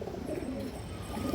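Pigeons, among them breeding hens, coo constantly nearby, a thick overlapping murmur of low throaty calls against steady background noise.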